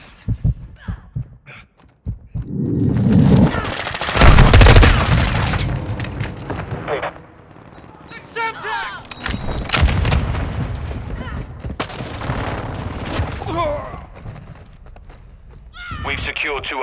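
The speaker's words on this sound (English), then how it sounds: "Friendly mortar strike on the way." A Call of Duty: Modern Warfare match plays out with heavy booms from a mortar strike, bursts of gunfire and battle noise in loud surges, under game announcer voices.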